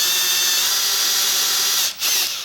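An aluminium vice casting is drilled with a 5.3mm drill bit, a loud continuous whining drill tone that briefly dips near the end before resuming, heard alone.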